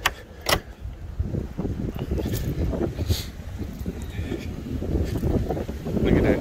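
Strong wind gusting outdoors on a cold day, a steady broadband roar buffeting the microphone with louder surges near the start and end, plus a few faint clicks.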